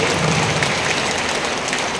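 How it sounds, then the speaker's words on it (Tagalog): Congregation at a Bulacan general assembly worship service applauding, a dense, steady wash of many hands clapping at once that stays loud and even throughout, like heavy rain. "Kaya palakpakan niyo muli ang Espiritu Santo na nasa ating mga puso."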